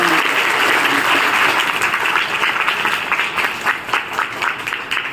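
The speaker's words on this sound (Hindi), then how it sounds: "ताली बजाइए जोरदार।" A crowd at a religious bhandara gathering applauds, with loud, dense clapping that fades slightly toward the end, and scattered voices underneath.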